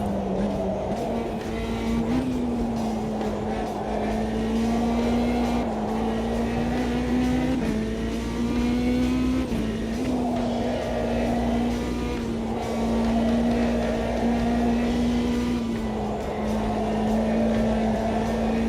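A video game race car engine drones continuously, revving up and easing off through gear changes, loud and close throughout with a faint voice underneath.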